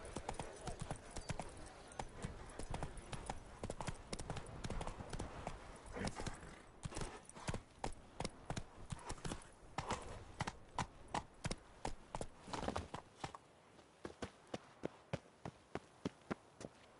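Roach the horse trots in The Witcher 3, her hooves clip-clopping in a quick steady rhythm. The beats come close and clear over a low bed of game ambience, then thin out into sharper, more spaced steps toward the end.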